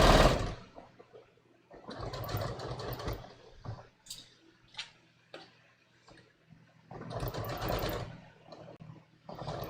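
A sewing machine stitches a tee shirt quilt in several bursts, each a steady mechanical whir lasting a second or two, separated by pauses filled with small ticks and clicks of pins and fabric handling.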